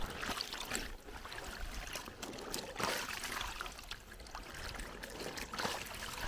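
Freshly dyed fabric is rinsed in water, giving a steady trickling, splashing wash of liquid that runs continuously at moderate level with small surges.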